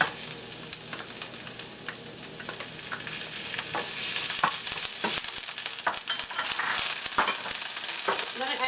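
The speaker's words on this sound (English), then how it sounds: "now I'm going to add the garlic and the ginger paste" Garlic and ginger paste fries in hot oil in a pan, producing a continuous loud sizzle, crackle and spatter, with scraping and stirring knocks from a utensil throughout.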